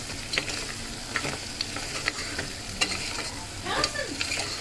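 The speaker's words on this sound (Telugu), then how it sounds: "వేసుకొని మొత్తం కలుపుకుందాము." Goat head curry with garam masala is stirred in a pan, a spoon scraping and sloshing through the sizzling gravy in repeated close strokes over a steady frying hiss.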